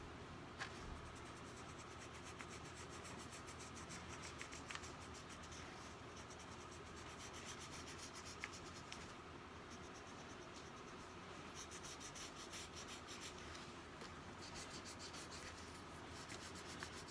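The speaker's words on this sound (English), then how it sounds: "So we can actually erase all of these lines that go back." Steady rubbing of an eraser across drawing paper, removing pencil perspective guide lines, a continuous soft scratchy friction that holds evenly from start to finish without pauses.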